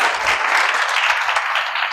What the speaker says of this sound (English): Give her a round of applause for being game.